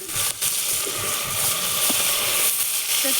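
Onions sautéing with green chilies in a pan for kushka rice, giving a steady, close sizzle and hiss that lasts the whole time, with faint clinks over it.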